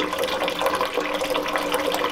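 Water rushes steadily out of an off-grid water system's pressure tank, a continuous hissing, splashing flow at close range with no talk.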